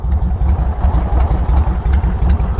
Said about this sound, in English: So is this idle too low?